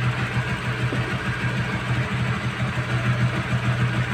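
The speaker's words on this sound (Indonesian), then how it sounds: "Motornya sambil dinyalakan ya." A Honda CB150R motorcycle engine idles steadily with an even low hum and no change in pace, heard on its own.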